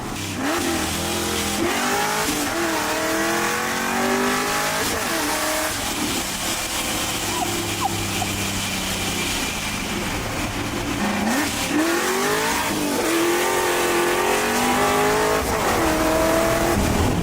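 A refurbished car engine snarls through repeated loud revs, rising and falling in pitch, with an aggressive, rough tone and a brief tire chirp among the bursts.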